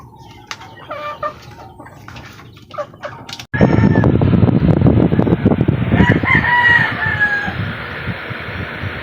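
Backyard chickens cluck and call nearby, with a rooster-like crow amid loud rustling and flapping-like noise that starts abruptly partway through, as the birds are bathed.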